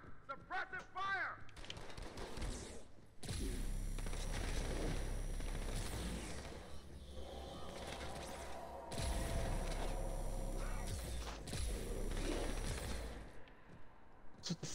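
Dense bursts of Halo 2 gunfire and weapon noise fill a co-op firefight on Legendary difficulty, loud and sustained in long stretches with brief lulls, layered over game effects.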